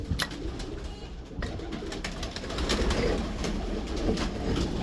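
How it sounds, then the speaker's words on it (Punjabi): Soft cooing from a Ferozpuri pigeon in a breeder's loft, faint and somewhat distant, set against a constant background hiss with a few scattered clicks. "ਫਿਰੋਜ਼ਪੁਰੀ ਕਬੂਤਰ"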